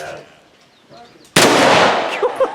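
A black powder shotgun fires at a Victorian rifleman shooting match in Bowling Green, Kentucky: one loud, sudden blast after quiet murmuring, followed by a long booming decay.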